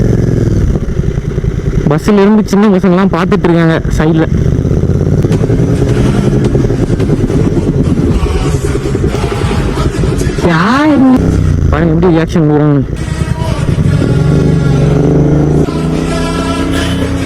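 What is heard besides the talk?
motorcycle with aftermarket exhaust riding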